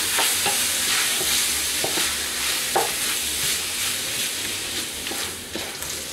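Onions softening in meat juices and oil sizzle steadily in a pan for a Tunisian ganaouia, with a spoon scraping and stirring through them in occasional light knocks, no talking over it.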